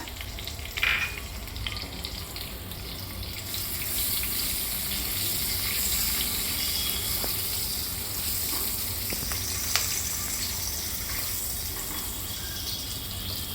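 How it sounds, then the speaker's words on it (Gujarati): Cumin seeds, a pinch of asafoetida and chopped green chillies sizzle steadily in hot oil in a kadai while making misal, a broad continuous frying hiss with a brief spatter near the start and no talk. "તેલ ગરમ થાય એટલે એક ટીસ્પૂન જીરું ચપટી હિંગ બે કાપેલા લીલા મરચાંના ટુકડા નાખવાના"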